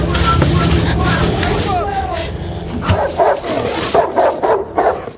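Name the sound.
tracking dog barking in a war film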